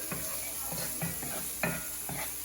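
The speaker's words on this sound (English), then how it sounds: "So let that onion and garlic cook down just a little bit." Onion and garlic cooking in a pan before a ribeye pan sauce, a constant soft sizzle broken by several short stirring scrapes, close and fairly quiet.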